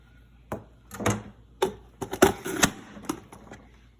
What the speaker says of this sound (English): now I'm going to cut these in big chunky slices